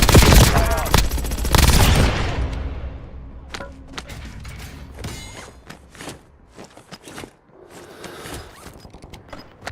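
Video game gunfire opens with a loud, dense burst of rapid shots for about two seconds, then thins into scattered single shots and mechanical clicks that fade to quieter, sparser cracks.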